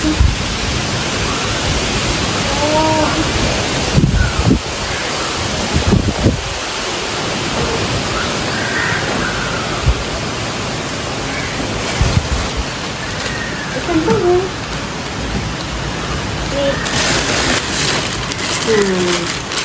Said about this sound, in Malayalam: പുറത്ത് നല്ല കാറ്റും മഴയും ഒന്ന് കാണിക്കൂ